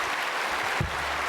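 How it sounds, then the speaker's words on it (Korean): A church congregation applauds the choir with a brief, steady wash of clapping, fairly faint and even, with one low thump in the middle. "우리 성가대 할렐루야 박수입니다"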